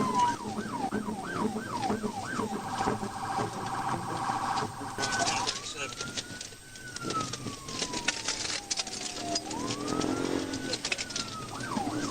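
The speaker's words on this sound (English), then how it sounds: "That was all it took for the trooper to hit the lights and sirens" A loud police car siren rapidly yelps in quick cycles, then shifts to a slow rising-and-falling wail, close by amid road noise.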